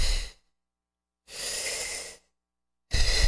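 Deep breathing exercise: slow, forceful breaths in and out close to the microphone, one exhale, a long inhale, then another begins, separated by silence.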